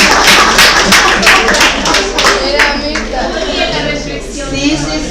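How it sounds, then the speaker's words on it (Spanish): A burst of hand clapping from a small group, sharp claps fading after a few seconds as talking continues. "Un aplauso para Gabriela"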